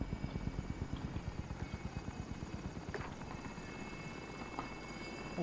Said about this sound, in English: Calling the chopper in.